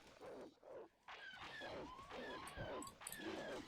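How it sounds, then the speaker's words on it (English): Noisy demon dog creatures called Vornskrs in a strategy video game snarl, yip and whine in repeated overlapping bursts, fairly loud amid other game effects with a voice talking over them. "That was a noisy demon dog thing, or Vornskers."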